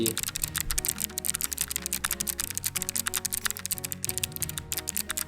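Fast, sharp clicking of a Logitech G913 TKL mechanical keyboard's clicky switches typed steadily nearby, each press snappy and distinct, continuing without a break.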